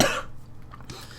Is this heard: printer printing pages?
no